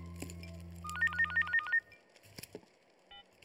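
A quiet phone ringtone, a short run of electronic beeping tones about a second long, followed by faint clicks and a brief tone, heard softly in an indoor setting.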